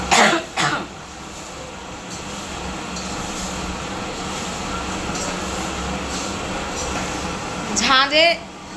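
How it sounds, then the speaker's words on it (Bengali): Coughing and throat clearing break out close by at the start and again near the end, set off by pungent fumes while cooking a special lunch, over a steady hum of a kitchen fan in between. "ঝাঁঝে চোটে আমাদের এবার কাশি আরম্ভ হয়ে যাচ্ছে"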